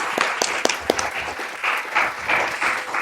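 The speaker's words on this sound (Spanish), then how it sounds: "Un aplauso." Audience applause at a children's rights and internet event: scattered sharp claps at first, swelling into a fuller, sustained round of clapping that carries through to the end, with no talking.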